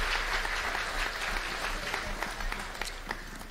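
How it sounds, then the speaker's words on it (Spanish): Audience applause at a centennial tribute concert honoring a musician: dense, steady clapping from many hands, fairly far off, with a few sharper claps standing out as it goes on. "fuerte aplauso, por favor, fuerte aplauso"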